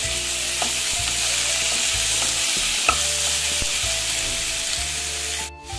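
Stuffed brinjal masala with coconut sizzles steadily in a pan as it is sautéed, with a continuous loud frying hiss and faint scrapes of stirring beneath it, close up and without talk.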